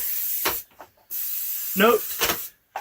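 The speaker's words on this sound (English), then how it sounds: "I'm just going to give him one more spray" Several short hissing spray bursts onto seasoned raw chicken, close and separated by brief quiet gaps, with a short voiced sound between them.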